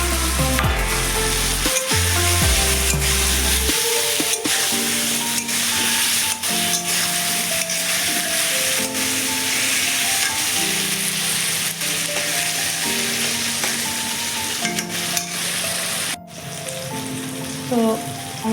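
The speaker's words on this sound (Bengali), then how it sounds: "এবারে আমি এই যে ভিজে রাখা পটলগুলো এর মধ্যে দিয়ে দেবো।" Soaked pointed gourd pieces frying in a spiced curd gravy, a loud continuous sizzle running under background music with occasional clatters of a spoon.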